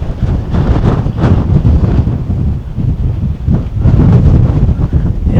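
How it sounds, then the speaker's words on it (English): Fierce wind roars across an overlook in the Petrified Forest, loud, close and blustery, pounding the microphone in uneven gusts without a pause. "The wind was super fierce at that overlook"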